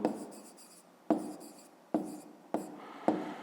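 Pen or pencil writing on paper while working a fifth-grade math exercise, heard as four or five short scratching bursts, each starting with a sharp tap and trailing off, close and alone without talk.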